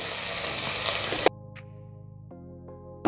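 Chopped large onions sizzle and crackle in hot oil for a moment, then the frying cuts out, leaving a quiet background hum.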